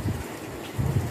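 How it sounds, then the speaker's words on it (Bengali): Rain keeps falling after a storm, a soft steady patter with low rumbling swells, close by and heard on its own for a brief moment. "এখনো বৃষ্টি থামার নাম নিচ্ছে না, বৃষ্টি কন্টিনিউয়াস হয়ে যাচ্ছে।"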